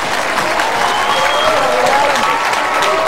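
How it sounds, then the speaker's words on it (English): Studio audience breaking into a big round of applause to welcome a guest onto the stage, dense sustained clapping and crowd noise at steady loudness from start to finish. "Will you please welcome with a big round of applause, everybody, Alan Brand"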